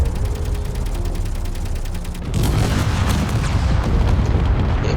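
Missile explosions from a Corvette warship in Space Engineers: a rattling stream of rapid shots gives way to a loud, rumbling blast that rolls on with crackling debris.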